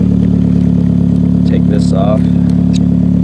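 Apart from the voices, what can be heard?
Lancer Ralliart engine idling with DC Sports single exit exhaust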